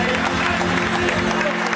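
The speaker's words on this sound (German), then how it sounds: "Aber einen Applaus für die vierte Rollerbahn." A crowd applauds steadily at a Tyrolean folk music concert, a dense wash of clapping sustained throughout, with some voices mixed in.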